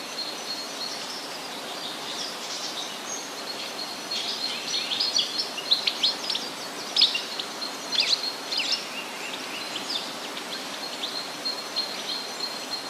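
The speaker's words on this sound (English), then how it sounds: "The greater flamingo, the largest of its family." Greater flamingos calling in the Nile Delta wetlands, a scattered run of short honking and chattering calls heard at a middle distance over a steady hiss of ambient background, with the calls growing denser partway through.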